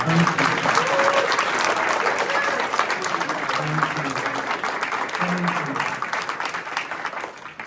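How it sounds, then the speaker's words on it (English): An audience at a county forum applauds steadily for several seconds, a dense crackle of many hands clapping, with a brief spoken thanks over it before it tapers off. "please give a round of applause for our moderator"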